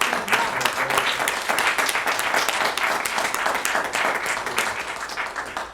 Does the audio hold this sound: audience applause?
yes